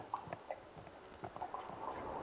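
A horse in The Sims 4 on a horse ranch eats while being hand-fed, with soft, quiet munching and light clopping taps scattered over a steady faint game background.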